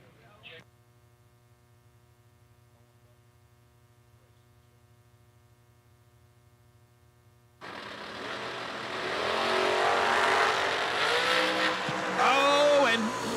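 At a drag race, a Camaro and a dragster launch after a stretch of steady electrical hum, and loud engine roar with some tire noise fills the last several seconds.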